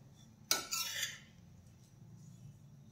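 A metal spoon scrapes and clinks against a kadhai while dry grated coconut roasts over medium heat, one sharp clatter near the start followed by soft dry stirring.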